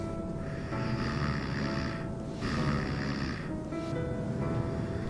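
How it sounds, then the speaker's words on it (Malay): A person sleeping snores in slow, repeated rasping breaths, loud and close, with short pauses between the drawn-out snores. "Berdengkur macam orang tua."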